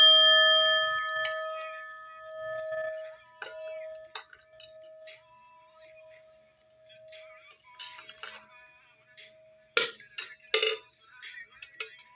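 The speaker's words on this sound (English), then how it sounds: "Let's hit the bell" A bell-like chime opens with a sustained ringing tone that decays slowly over several seconds, followed by scattered light clinks and a brighter burst of metallic clatter near the end.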